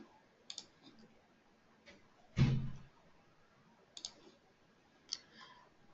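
A computer mouse clicks sparsely on a software dashboard, a few light, close clicks spaced out, with one duller thump in the middle.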